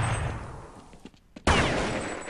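Gunfire in Counter-Strike on de_mirage at a 2012 tournament playoff, a few faint shots followed by a sudden loud burst that sustains into a dense wash of game noise.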